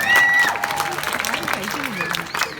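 An audience at a sea lion show applauds and cheers for a trainer, a loose patter of clapping with a few whistles and voices mixed in, moderately loud and fairly close.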